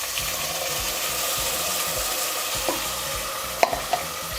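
Ground masala frying with mutton pieces in a pan for Kashmiri-style rogan josh, a steady soft sizzle with occasional stirring scrapes and a few sharp clinks near the end.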